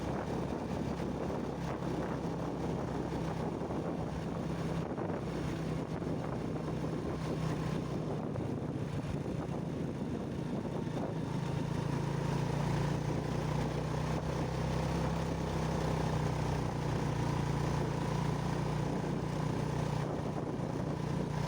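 A Honda Revo 100 motorcycle rides along roads between dams, its engine drone running continuously under heavy wind rush against the microphone, steady and loud throughout.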